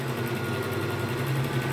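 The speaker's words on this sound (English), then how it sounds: "now I'm just doing a straight stitch on this one" A sewing machine runs a straight stitch while making a foraging pocket, giving a steady, close mechanical whirr and hum that holds at an even level throughout, with no talking.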